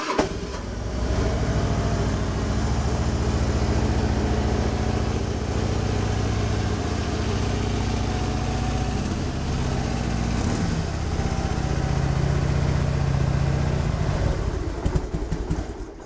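A carbureted motorcycle with stock exhaust and a stage 1 setup idles nearby, a steady low rumble with slight rhythmic pulsing that continues evenly before fading out at the end.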